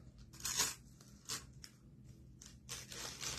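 Scissors snip along a printed cut line down the middle of a sheet, giving a few short, soft crisp bursts of cutting separated by quiet pauses.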